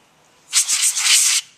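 Cleaner sprayed onto a nitro engine's air filter makes one sustained aerosol hiss, close and loud, lasting under a second, with quiet room tone before and after.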